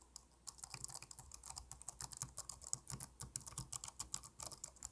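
Quiet, close typing on a Dell KM7321W full-size low-noise keyboard with flat keys, giving a soft rapid patter of muted keystrokes with a slightly thumpy character and brief pauses between bursts.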